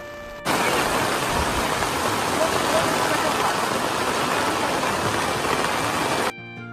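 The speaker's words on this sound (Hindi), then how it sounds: "अभी भाई बहुत ही तेज़ बारिश यहाँ पे स्टार्ट हो गई है" Heavy rain pours steadily at Omkareshwar on the Narmada River, a loud, dense, continuous hiss that starts abruptly and stops abruptly near the end, with no voices over it.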